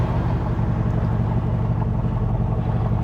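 A 1967 Corvette with the L89 engine runs steadily, a deep continuous low-pitched engine rumble with even pulsing, close and loud for the whole short stretch, with no voices.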